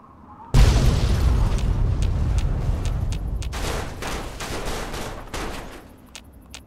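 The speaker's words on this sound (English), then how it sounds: "Who's shooting at me?" Sudden burst of gunfire and explosions in the video game Fallout 3, a loud boom followed by a dense, continuous fusillade of shots and blasts that keeps going with scattered sharp pops.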